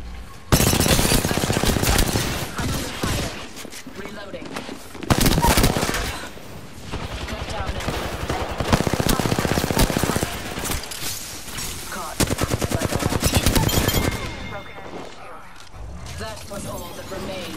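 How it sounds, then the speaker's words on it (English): Dense bursts of rapid automatic gunfire and mechanical clatter in a shooter video game, loud and near, in long stretches with brief gaps, with speech mixed in. "I'm under fire."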